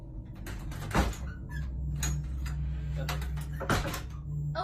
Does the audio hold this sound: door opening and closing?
yes